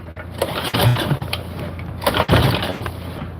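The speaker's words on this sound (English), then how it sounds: "This is the Tecumseh engine" Small Tecumseh engine running outdoors on a hot day, a steady mechanical drone with rough low-end chugging and a brief rise in speed, fairly close and continuous.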